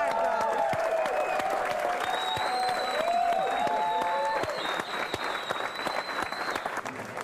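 Audience at a concert applauding to welcome a bride and groom, sustained dense clapping with music tones ringing over it, thinning slightly toward the end.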